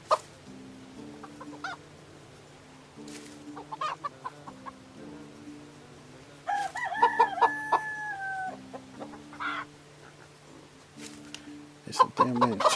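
Hens cluck in short bursts nearby in a crowded barn while a rooster crows once in a long drawn-out call, over a low steady hum.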